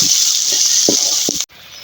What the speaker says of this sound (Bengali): হালকা করে ভাজতে নেব